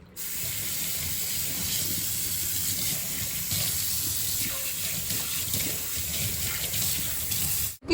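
A tap runs steadily into a sink while dishes are washed, producing a continuous close hiss of flowing water with faint clinks, lasting the whole stretch without a pause.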